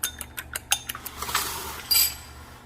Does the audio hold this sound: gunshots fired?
no